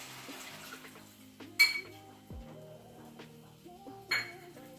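A spoon stirs cornflour water into Gobhi Manchuria sauce in a pan, giving soft scraping and liquid swirls with a few sharp metallic clinks against the pan's side, close and moderately quiet.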